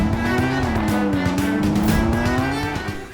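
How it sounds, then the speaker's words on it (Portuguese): A Red Bull Formula 1 car does donuts on a hotel rooftop helipad in Dubai, its engine screaming loud and sustained at high revs with wavering pitch and tire squeal mixed in. "A Red Bull levou seu carro de Fórmula 1 pro topo do prédio pra dar um zerinho"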